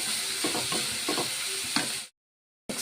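Finely chopped green chillies hit hot oil in a pan for a broccoli curry, giving a close, bright sizzle with a few stirring scrapes before the sound cuts out briefly.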